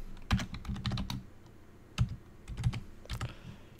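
A string of sharp computer clicks and taps sounds close by in a quiet room as a file is saved, arriving in uneven clusters with short pauses between them.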